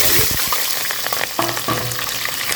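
Ginger and green chillies fry in hot oil in a kadai for a fish curry, giving a loud, steady sizzle with a few sharper crackles and spatters throughout.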